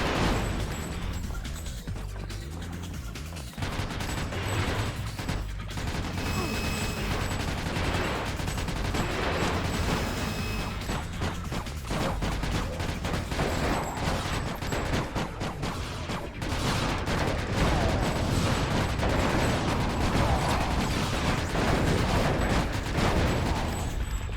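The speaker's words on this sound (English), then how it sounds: "Someone's doing the shooting." Continuous gunfire in the video game Ratchet: Deadlocked, dense rapid bursts of shots and blasts layered over one another for the whole stretch, loud and unrelenting with no clear pauses.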